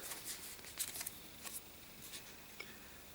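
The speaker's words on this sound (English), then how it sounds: "give it a little shuffle" Playing cards shuffled during setup of the Horrified board game, a quiet run of soft riffling bursts and flicks over a few seconds, faint against room hiss with no talking.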